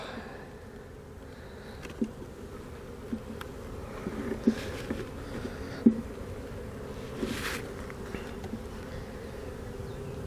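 Honey bees fill an open hive with a steady, soft buzzing hum that carries throughout, with a few faint clicks and light knocks scattered over it.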